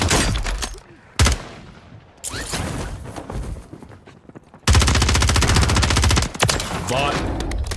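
Gunfire in the Call of Duty Warzone video game: loud, rapid automatic bursts, some short and some sustained, separated by brief quieter gaps with faint game sounds.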